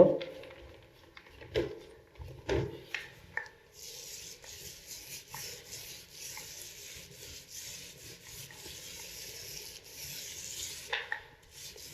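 A wide paint brush on an extension pole sweeps back and forth across a ceiling, smoothing fresh deep-coloured paint with soft, steady rubbing strokes. A few sharper taps come first, then continuous close brushing.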